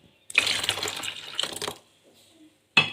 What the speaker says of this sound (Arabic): ونحط عليه عصير الليمون